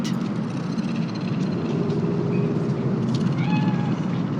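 A cat meows in the video game Cyberpunk 2077, a few short, faint mews set over a steady low ambient drone and hum of the game's city, with no talking.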